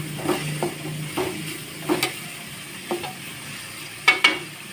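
Onions cooking in oil for egg rice, a continuous sizzle punctuated by several sharp spatula scrapes and taps against the pan at irregular intervals, close and fairly loud, with no voices.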